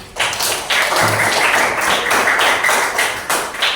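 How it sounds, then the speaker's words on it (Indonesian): A classroom group claps together in bursts of close, fairly loud applause that stops and restarts several times over a few seconds. "tepuk tangan semuanya"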